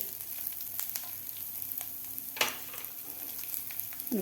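Garlic, ginger pieces and onion roasting with coconut in a pan for a village-style egg rassa curry: a soft, steady sizzle and frying crackle, with a few light stirring scrapes, close and quiet, no talk.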